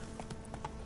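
A few quick hoofbeats come from a ridden horse in The Witcher 3, a short, close burst of clip-clop.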